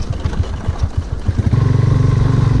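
A motorcycle ridden in Arunachal Pradesh, its engine chugging unevenly at first, then settling into a steady, loud throb close by, with no talk.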